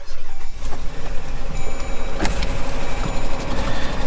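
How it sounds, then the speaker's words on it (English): An old, cheap auction Jeep engine running after being started, a loud steady close-up idle rumble with a lumpy pulsing rhythm and a brief clank partway through, no talking. "Let me see if I can get it started again"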